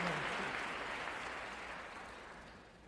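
An audience claps after a talk, a dense, even wash of applause that slowly fades across the clip, with no one speaking.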